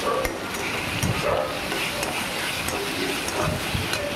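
Ginger garlic paste sautéing in oil for mushroom masala, a continuous close sizzle with occasional scraping stirs of a spoon against the pan.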